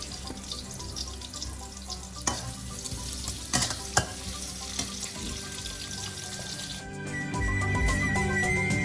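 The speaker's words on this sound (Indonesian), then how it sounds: "goreng telur tahu di atas teflon yang diisi dengan sedikit minyak yang sudah panas" A tofu omelette of egg and tofu fries in a little hot oil in a teflon pan, giving a continuous close sizzle broken by scraping utensil clicks and growing into a louder, steady hiss near the end.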